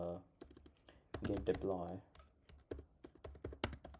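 A command being typed on a computer keyboard: quick, uneven bursts of close key clicks with a person speaking over them.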